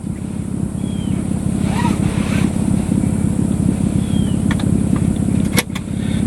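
A 2012 Jeep Wrangler with a 3.6 Pentastar engine and no exhaust, only cats, driving: a loud, steady, buzzing engine drone with heavy wind noise throughout, close, and no talking.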